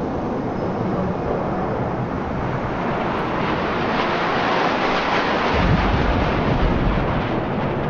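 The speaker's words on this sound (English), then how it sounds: "what's with the audio? It's like really windy." Strong, steady wind in the video game Star Citizen roars and buffets throughout, a broad rushing noise with a deeper gust swelling near the end.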